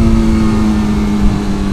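An older motorcycle engine revs hard into its power band, a loud, close, continuous droning growl with a steady pitch over a short moment, no talking.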